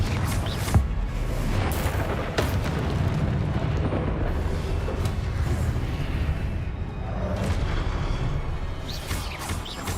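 Confringo explosion spells go off in the video game Hogwarts Legacy, a dense, continuous roar of blasts and rumbling booms with a few sharper bursts cutting through.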